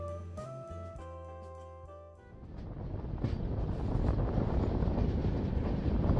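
A train pulling out of Prayagraj Cheoki Junction on the Howrah–Agra route, rounding a long curve toward Manikpur Junction; after a brief tonal opening, a loud, steady rumble and rattle of running rolling stock builds and holds, with wind buffeting.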